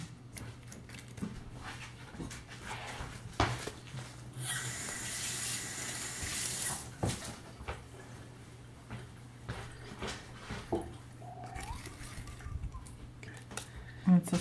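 Tap water splashes into a kitchen sink while a food-kit container is rinsed, running steadily for a couple of seconds amid quieter clatter, with people talking softly over it.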